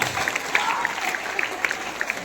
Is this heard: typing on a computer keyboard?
no